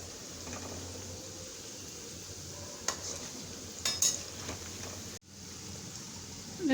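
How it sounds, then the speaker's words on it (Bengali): Ripe banana fritters (bora pitha) fry together in hot oil, a soft continuous sizzle and bubbling heard close but fairly quiet, punctuated by a few light clinks of a utensil and a brief dropout. "দেখুন সব বড়াগুলো আমি একসঙ্গে দিয়ে দিয়েছি।"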